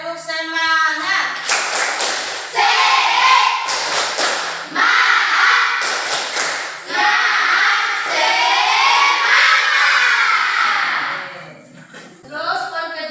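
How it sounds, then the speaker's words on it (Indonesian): A classroom of children does a rhythmic spirit clap, with loud, close bursts of clapping in a patterned beat, mixed with voices chanting and shouting along. "Tepuk semangat."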